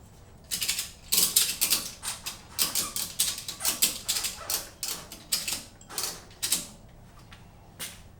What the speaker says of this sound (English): I'm going to loosen the straps in the front, tighten the straps in the back